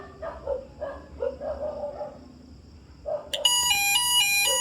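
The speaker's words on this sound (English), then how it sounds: "now we will try the sounder, just a few seconds, just to see the functionality of the sounder" A DIY Arduino fire detection system's alarm sounder starts abruptly after a few dog barks, blaring a loud, piercing electronic tone that alternates pitch and holds steady to the end.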